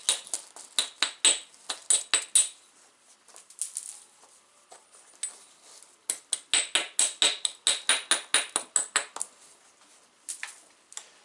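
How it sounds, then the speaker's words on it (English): Flint knapping percussion as small flakes are struck off to trim the tip, a rapid series of sharp, close clicks and taps in two busy clusters with brief pauses between. "Just taking small flakes here to try and trim up."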